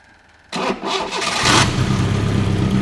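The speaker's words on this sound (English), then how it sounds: "Try it again, see if it fires up." An Austin Maxi engine, not run in 18 years, cranks and catches after a brief quiet, sputtering roughly before settling into a loud, rumbling idle close by.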